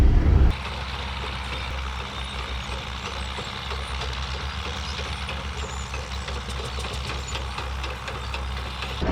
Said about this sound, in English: it is actually the only full-size traction engine running that I know of